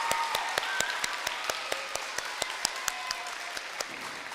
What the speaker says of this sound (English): I want to give our veterans one more round of applause for their service.